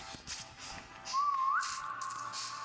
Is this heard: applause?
no